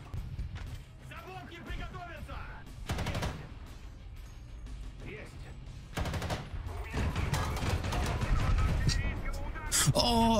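Gunfire rings out in an armored vehicle combat video game, with sharp bursts and rattling volleys at mid distance while a player talks excitedly over the action.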